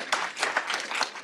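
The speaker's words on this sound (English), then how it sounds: "let's give a round of applause" After a talk on Putin's Russia, an audience gives a short, soft round of dense applause, a steady wash of many hands heard from a distance.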